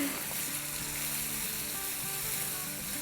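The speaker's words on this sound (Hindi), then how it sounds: "1 मिनट के आसपास इनको सॉटे करेंगे।" Finely chopped vegetables and carrots sauté in a pan for chicken macaroni, giving a loud, even, continuous sizzle with faint stirring beneath it.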